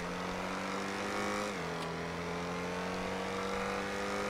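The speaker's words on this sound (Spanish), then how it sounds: "Este coche me gusta, ¿eh? Cómo suena, cómo funciona, cómo gira." Steady car engine hum from a car driven in GTA, a sustained drone holding a constant pitch with a brief dip midway, loud and continuous with no speech.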